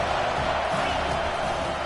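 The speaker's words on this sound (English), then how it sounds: "Decibels rising as the crowd gets behind this defense on 3rd down." Stadium crowd noise in College Football 25 during a 3rd-down defensive stand, a dense, steady roar of cheering that holds loud and unbroken throughout.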